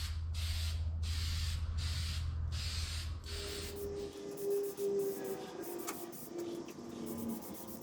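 Spray can applying a first coat of paint to a steering wheel, several short close hissing bursts in quick rhythm, followed by quieter handling rustle.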